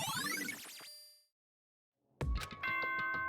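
A bright ding-dong announcement chime from the video game Danganronpa, a ringing multi-tone bell figure that fades into silence, followed by a second chime or jingle, clear and close with no talking.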